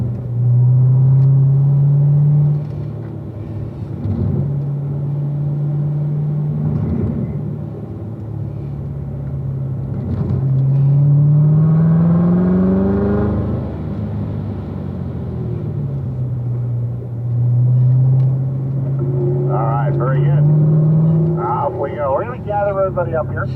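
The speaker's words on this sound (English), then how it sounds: "Accelerate into position for turn 8." Car on the Spring Mountain race track, its engine droning loudly and rising in pitch through repeated acceleration pulls and lifts, with an instructor talking over the cabin rumble throughout.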